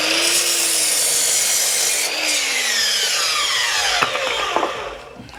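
Wood is cut with a hand saw inside a van being converted, producing loud, close, continuous rasping strokes that drift in pitch and end with a few sharp scrapes as the cut finishes.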